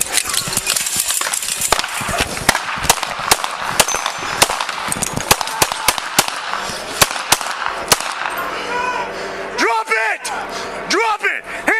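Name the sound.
gunshots fired by a suspect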